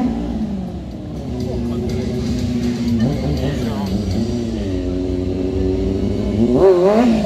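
A 1000 cc, 180 hp motorcycle at a stunt show in Mosonmagyaróvár, engine droning and revving with rising and falling pitch, loud and near, with a voice talking over it throughout.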